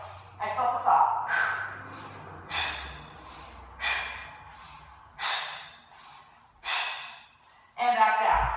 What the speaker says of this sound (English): Inhale through your nose, exhale at the top.